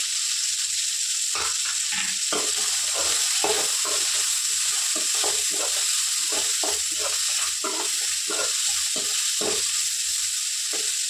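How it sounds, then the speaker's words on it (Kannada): Fresh coriander leaves and mint frying in a pan for mutton sambar: a constant bright sizzle cut by a rapid series of close stirring scrapes, with no talking. "ಇದಕ್ಕೆ ಫ್ರೈಗೆ ನಾನು ಕೊತ್ತಂಬರಿ ಸೊಪ್ಪು, ಸ್ವಲ್ಪ ಪುದೀನ ಎರಡನ್ನೂ ಸೇರಿಸ್ಕೊಂಡು ಫ್ರೈ ಮಾಡ್ಕೊತಾ ಇದ್ದೀನಿ."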